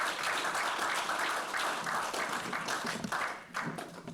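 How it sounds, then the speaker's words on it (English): An audience at a Black History Month celebration applauds Greg Singer. Steady, dense clapping fills the room throughout, with a slight dip near the end. "Let's hear it again for Greg Singer."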